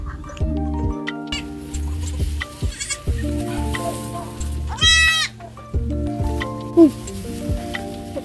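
Repeated bleats from a pregnant nanny goat near kidding, loud and close, several calls in a row with short pauses, a higher-pitched cry cutting in midway.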